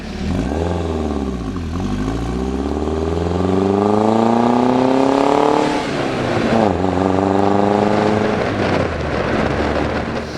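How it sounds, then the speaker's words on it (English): A 1989 Peugeot 205 GTI 1.6 engine revs hard and loud, pitch climbing smoothly through a long rising sweep, dropping back, then rising again, close and with no talking. "Sweet, revvy engine that's just so eager and keen."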